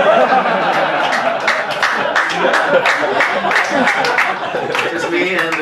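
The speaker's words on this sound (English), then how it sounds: "Just me and the Navy guy clapping." A few scattered audience members clap at a stand-up comedy show, sparse hand claps ringing out over a room murmuring with chuckles and chatter.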